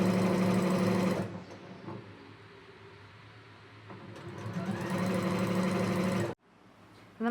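A sewing machine stitches quilt blocks together, its steady motor hum running loud and continuous, dropping briefly in the middle and stopping abruptly near the end, with no talking.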